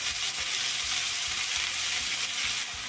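Spinach, green chilli pieces and garlic cloves fry in a pan with a loud, dense, continuous sizzle and hiss, with light stirring scrapes underneath and no voices.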